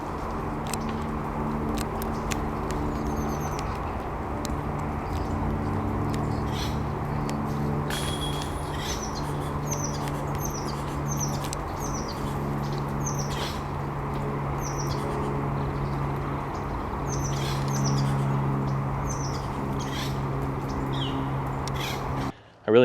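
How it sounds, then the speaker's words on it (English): Repeated squeaky chirping calls of an acorn woodpecker in a tree come in scattered bursts from a distance, half-buried under close, steady rushing breath noise. "check out this clip I just got of one over in this tree"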